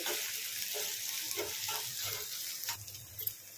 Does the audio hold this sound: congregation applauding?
no